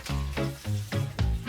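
Meatballs sizzling in a frying pan for a pasta dish, a brief bubbling crackle with soft pulsing bursts, close and moderately loud, no talk.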